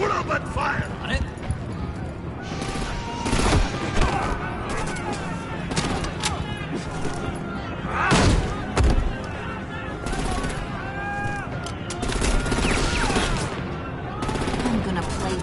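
Rapid gunfire in a Batman Telltale shootout, bursts of automatic shots and heavy impacts packed close together and loud, with characters shouting over the barrage.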